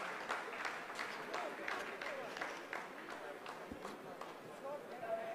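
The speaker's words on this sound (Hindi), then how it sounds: "आप इस तालियों के गड़गड़ाहट को सुन सकते हैं जो कि सेकेंड हाइवरिक फेज के कंप्लीट" Scientists applauding in a mission control room after a lunar landing phase of Chandrayaan-3, a steady wash of clapping heard somewhat distant beneath a commentator's continuous speech.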